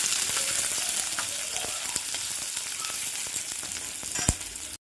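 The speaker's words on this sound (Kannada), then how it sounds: "ಒಂದೇ ಒಂದು ಈರುಳ್ಳಿ ಹಾಕಿ ಫ್ರೈ ಮಾಡಬೇಕು ಚೆನ್ನಾಗಿ" Chopped onion sizzling in a pan for a mutton sambar, a steady dense crackle throughout with brief sharper pops and a stir near the end.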